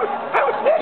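A dog at a beginners' agility trial in Alessandria gives a couple of quick, close yipping barks with a whiny edge, all within a second.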